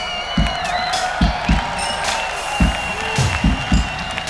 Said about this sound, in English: A round of applause for Samantha.